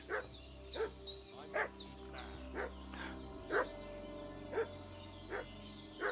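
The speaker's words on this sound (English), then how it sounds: "What's that dog making such a fuss about?" Video game dog from Kingdom Come Deliverance 2 barking repeatedly at a steady pace, about one bark every second, fairly faint and heard over a low background hum.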